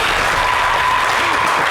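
A studio audience at a French-language TV show applauds for a woman named Karina, a brief, even burst of many hands clapping with no talk over it.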